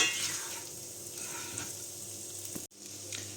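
Garlic and chili picada frying in oil in a casserole: a steady, close, hissing sizzle that fills the whole stretch, with a brief dropout near the end before the frying noise resumes.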